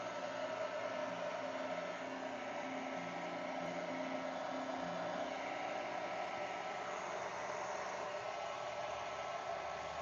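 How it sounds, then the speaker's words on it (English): A household blow dryer runs steadily and loudly for the whole stretch, a continuous broadband whooshing hum with no pauses and no talking over it. "And then I'm going to take my blow dryer"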